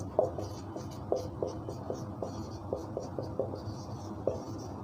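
Writing a physics formula on paper or board, steady scratching strokes with regular soft taps as each character is marked, close and moderately loud, no talking.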